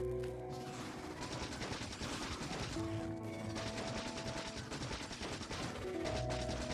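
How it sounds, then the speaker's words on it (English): Sustained SMG fire in a factory-building video game, dense rapid bursts rattling nonstop over a busy, loud game soundscape with shifting tonal hums, no speech. "I could try out my SMG for the range play."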